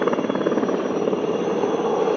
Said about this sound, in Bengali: ওইদিকে একটা চপার ঘুরছে হেলিকপ্টার